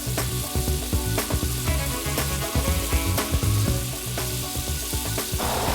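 Lobster meat coated with Tuscan herb sizzles and fries steadily in a pan, a loud, continuous crackle close by with occasional stirring clatter and no talking.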